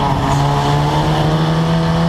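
Historic Formula Ford race cars at Snetterton circuit during the 2014 championship round: a loud, steady, high-pitched engine whine that holds its pitch for about two seconds, heard clearly with no voices.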